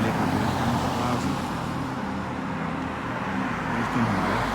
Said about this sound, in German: durchaus belegte Durchgangsstraße.